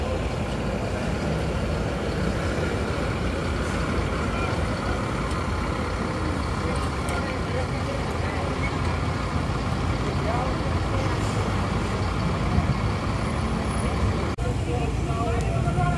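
A Handoyo bus built on a Mercedes-Benz chassis pulls away, its engine giving a steady, dense rumble mixed with surrounding road traffic noise, while a voice talks over it throughout.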